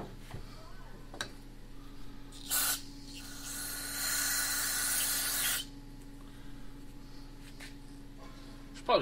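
Brake parts cleaner sprays from an aerosol can during a teardown of an MTD chipper shredder: a short hiss burst, then a longer steady spray of a few seconds, with light tapping and handling noises around it.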